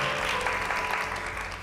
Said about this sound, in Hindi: बहुत सारी तालियां बजाइए एक बार फिर इन तीनों के लिए